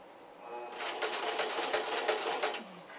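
A sewing machine stitching a pair of shorts runs in a fast, steady mechanical chatter for a couple of seconds, fairly close and moderately loud, starting after a brief quiet moment and slowing near the end.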